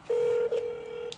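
A telephone dialing tone: a single steady electronic beep held for about a second, followed by a second short tone, clear and close with no voices.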